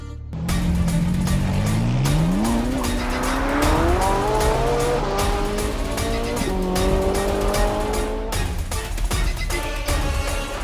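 A car's tires squeal and skid for a long, loud stretch, with the rising screech sustained over engine noise throughout.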